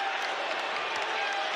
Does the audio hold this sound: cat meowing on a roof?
no